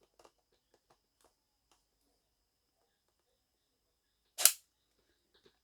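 A section of a Zebronics Wonder Bar 10 soundbar snaps apart as the side socket is pressed, giving one sharp, loud plastic click after a few faint handling taps.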